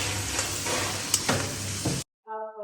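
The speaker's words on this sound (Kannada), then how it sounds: "ಗೋಲ್ಡನ್ ಬ್ರೌನ್ ಆಗೋವರೆಗೂ ಚೆನ್ನಾಗಿ ಫ್ರೈ ಆಗಲಿ" Onions fry in a pan toward golden brown with a dense sizzle and a few stirring scrapes, cutting off abruptly, followed by a brief musical tone.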